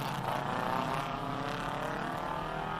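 Classic Ford Escort race car in Gulf colours on a hillclimb course, its engine a continuous loud roaring drone that holds steady throughout, with no talking over it.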